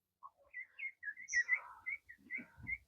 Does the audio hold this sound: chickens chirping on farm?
yes